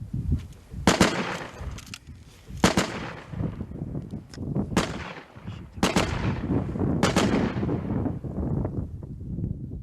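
Gunfire exchanged with Russian troops in the Kharkiv war zone, a series of loud, sharp shots and blasts at irregular intervals, each followed by a rolling echo over wind and a rumbling background.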